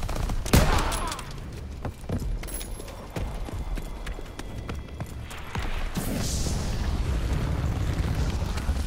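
Gunfire in a Call of Duty campaign: bursts of sharp shots crack repeatedly over a dense, rumbling battle background, with a louder blast near the start.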